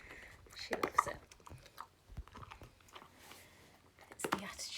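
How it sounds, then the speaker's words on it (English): A pet crunches and chews food close by in soft, irregular bites, with a couple of sharper crunches amid quiet room noise and faint murmuring. "can you hear her crunching?"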